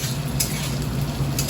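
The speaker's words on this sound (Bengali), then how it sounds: "এবার মশলা দিয়ে একটুখানি ভেজে নেবো" Boiled potatoes fry with ginger, cumin and chili powder in a pan, a steady close sizzle with a couple of brief scraping stirs.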